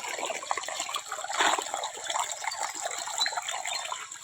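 Water gushing and trickling steadily at close range while bitter gourd plants are watered during a dry spell with no rain.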